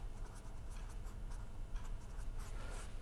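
Chalk or marker writing on a lecture board, a steady faint scratching with soft ticks and strokes throughout, heard quietly in a room without speech.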